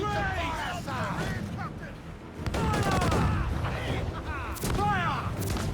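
Ship cannons fire repeatedly in the naval battle game Assassin's Creed Black Flag, heavy booms recurring every second or so under constant shouting of crew voices, with a loud sustained section midway.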